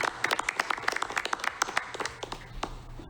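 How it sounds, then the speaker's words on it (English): A board of education meeting audience gives a round of applause, scattered hands clapping at a moderate level, with the claps thinning out toward the end. "I think it's time for a round of applause."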